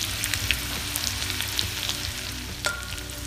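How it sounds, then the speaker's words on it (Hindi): Grated garlic, ginger and finely chopped green chili frying in hot oil, a steady close sizzle with a few sharp spits and crackles. "अब हम तेल में कसा हुआ लहसुन, कसा हुआ अदरक और बारीक कटी हरी मिर्च डाल देते हैं।"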